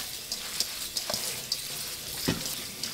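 Tomatoes and fresh basil are rinsed under running tap water in a kitchen sink, a steady close hiss of water broken by soft splashes and a few light clatters as the produce is handled.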